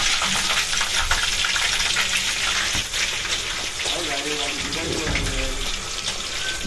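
Biryani masala fries in a pan with a loud, continuous hiss and crackle close by, while a voice talks over it.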